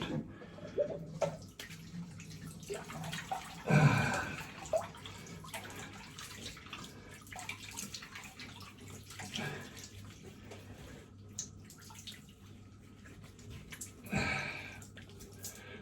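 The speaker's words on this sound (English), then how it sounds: "let me just let some water out of this sink" Water gurgles and trickles quietly from a sink, with a few louder sloshes and splashes standing out over the low draining sound.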